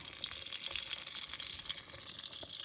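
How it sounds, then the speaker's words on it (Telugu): Onions fry in oil in a pot over a campfire at a mountain campsite, giving off a steady, soft hiss and crackle that runs evenly throughout without any voices. "ఉల్లిపాయలు వేసాం అనమాట. ఉల్లిపాయలు బాయిల్ అయితే మళ్ళా టమాటాలు వేసేది."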